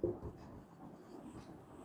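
A pen writes numbers by hand on paper, a soft continuous scratching close by after a brief initial tap, faint and steady.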